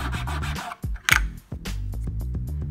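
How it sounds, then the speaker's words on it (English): Hair trimmer blade being ground back and forth on a blade modifier, close rhythmic scraping strokes with a sharp metallic scratch in the middle, quiet overall. "you can hear the blade being grinded and modified"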